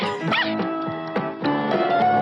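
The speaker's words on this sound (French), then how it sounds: "Oh, le chien." A dog in an old television advertisement barks and yips in a few short bursts with a whimpering, whiny tone, clear and fairly loud over a steady music-like background and no talking.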